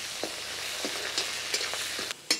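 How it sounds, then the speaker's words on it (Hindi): Close sizzling of onions frying in a pan with a handful of soft scraping stirs at irregular intervals, no voices. "अब प्याज को थोड़ा सा भून लेते हैं।"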